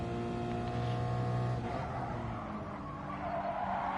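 A Subaru BRZ race car in Gran Turismo Sport runs at Autopolis with a steady engine drone and sustained tyre squeal, easing off into a quieter hum midway.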